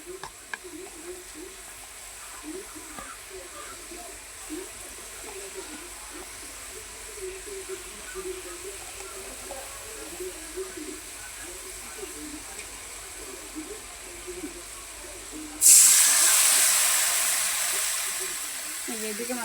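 Spices hit hot oil with onion for cooking fresh greens, and a loud burst of frying sizzle erupts near the end after a stretch of quiet kitchen stirring and soft background noise.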